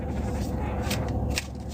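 Oracle cards being shuffled by hand, a close papery riffling rustle with a couple of brief brighter flicks.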